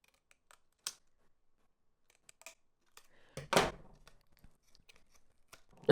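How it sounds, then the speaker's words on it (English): Scissors snip off triangles from a paper nativity craft figure, giving a few sharp, close cuts in a quiet room, with one louder crisp snip in the middle and light handling noises around it. "I'm going to just cut those triangles off."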